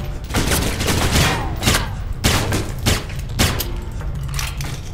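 In the video game Alpha Protocol, gunfire aimed at the player cracks out in a loud, close fusillade of repeated sharp shots in irregular bursts across the whole stretch, with no talking.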